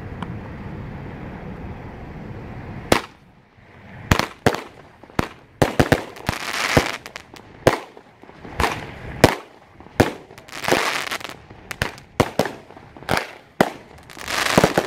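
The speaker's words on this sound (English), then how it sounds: "I'm about to do a demo on Pure Energy 200 gram cake, 16 shot" A Pure Energy 200 gram 16-shot fireworks cake fires outdoors: after an opening stretch of steady wind noise, a rapid series of loud, sharp shots cracks out one after another, with whooshes and bursts spaced irregularly across the rest.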